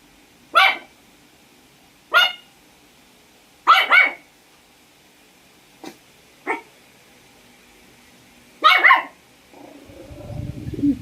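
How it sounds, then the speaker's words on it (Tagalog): A dog named Chloe barks in separated bursts, single and double barks spaced a few seconds apart at fairly close range, followed by a short rustling at the end. "Tatahol siya pag tumatahol yung ibang aso."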